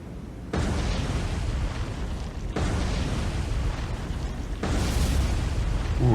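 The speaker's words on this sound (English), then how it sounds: "Ooh, explosion." Torpedo explosions striking a South Dakota-class battleship in the naval combat game War on the Sea. Three loud, sustained booming roars play back to back, each starting abruptly and rumbling on, with no talk over them.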